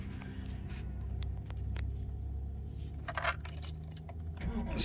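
Keys jangle and turn in the ignition of a Toyota Celica 1.8 T-Sport, a cluster of metallic clinks and clicks over a low idling rumble, a few sharper rattles near the end.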